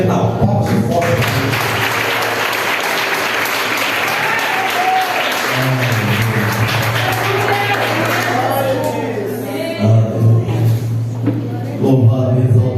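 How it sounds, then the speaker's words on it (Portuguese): Congregation applauding at a church youth congress, loud continuous clapping layered with a sustained low tone and occasional voices and shouts over it. "Pastor Renal, palmas e forte"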